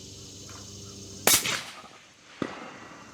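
Two sharp .270 Winchester rifle shots at a 300-yard range, a loud crack with a short decaying tail followed about a second later by a second, slightly weaker report, over steady outdoor background noise.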